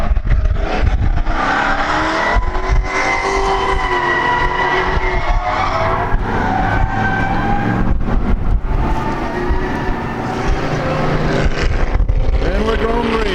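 A modified race car circles the Thompson track under yellow, its engine a loud, sustained drone that rises and falls in pitch through the laps, with voices talking over it.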